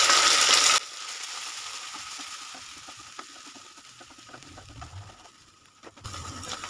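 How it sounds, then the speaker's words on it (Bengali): Ginger paste, poppy seed paste and green chilli hit hot oil with bay leaf, whole garam masala and dried red chillies, giving a loud sizzling burst that settles into a softer, steady crackling fry with some stirring. "এখানে আমি পোস্ত বাটা, কাঁচা লঙ্কা, আদা বাটাটা দিয়ে দিচ্ছি।"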